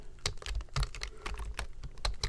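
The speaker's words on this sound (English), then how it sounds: "I'm just going to type in all caps" Computer keyboard keys clatter in quick, uneven taps, close and fairly soft, with short pauses between bursts of typing.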